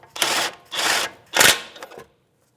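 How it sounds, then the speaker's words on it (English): Brake caliper mounting bolts on a 2012-2018 Nissan Altima driven in with a 22mm socket on a power tool, three close whirring bursts of about half a second each, then silence. "Take my 22mm socket, and I'm going to bottom these mounting bolts out."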